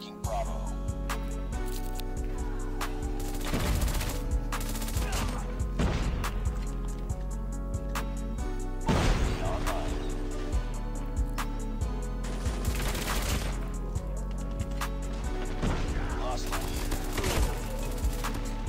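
Repeated bursts of MSMC submachine gun fire in COD Mobile, loud and steady across the whole stretch with sharp impacts mixed in, under an excited player's voice.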